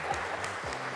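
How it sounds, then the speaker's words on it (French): A television game show studio audience claps in a brief, dense burst of applause. It is steady and fairly loud throughout the short moment, with no talk over it. "Applaudissez encore pour Live TV."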